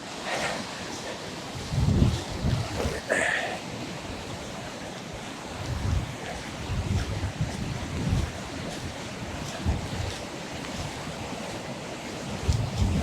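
Rushing water and gusting wind in the Glencoe valley in the Scottish Highlands, a steady broadband roar with wind buffeting the microphone in periodic low thumps.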